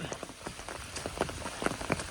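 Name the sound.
rain falling on a hiker on the Appalachian Trail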